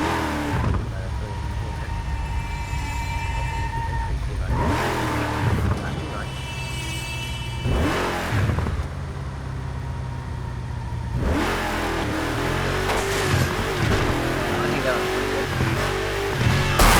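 Car engine revving in the racing game Burnout, with continuous loud engine drone and repeated rising surges and roars across the stretch, dense and up close, with game sounds layered in.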